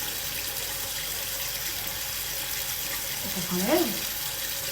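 Hot water runs from a tap in a steady, soft wash. Someone speaks briefly in French near the end.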